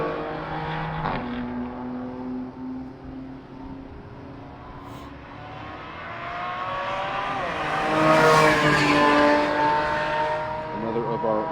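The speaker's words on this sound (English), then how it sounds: "Chris Porter in the LS powered Corvette." Race cars at Summit Point racetrack, engines humming and then swelling as a car passes close near the end, with a commentator talking over the track sound.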